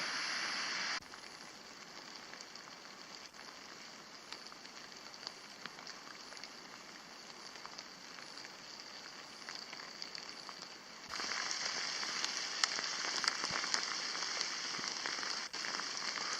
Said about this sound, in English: the rain has come back in earnest